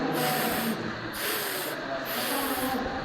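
A voice imitates the whirring of an electric fan with three rhythmic, breathy whooshing pulses, soft and close, like spinning blades.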